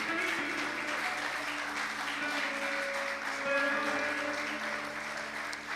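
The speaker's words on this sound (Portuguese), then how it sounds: "aplauda ao Senhor." A church congregation applauding, a sustained wash of clapping with a faint musical tone underneath, moderately distant and even.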